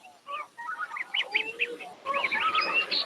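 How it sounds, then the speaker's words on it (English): Wild geese, parents and young, call and chatter in a run of short honking and twittering notes, moderately faint, with a busier burst of calls near the end. "the constant chattering, the young learn to recognize the voices of their parents, and the adults begin to know the sounds of their young"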